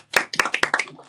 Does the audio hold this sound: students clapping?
yes